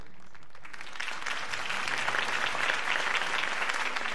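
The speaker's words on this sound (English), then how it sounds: "Mr. Wayne, my campaign's largest backer, could have heard that applause" Steady crowd applause in the video game Batman: The Telltale Series, a dense wash of clapping that swells slightly after the first second and holds at a moderate level throughout.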